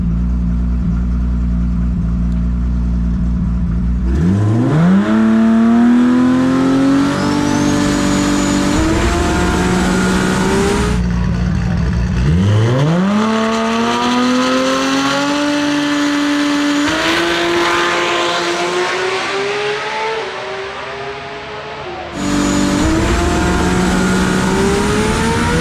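Toyota Supra engine revving hard during a burnout at a drag strip, loud repeated rising roars that climb, drop and surge again over about twenty-five seconds, close and dominating with no voices.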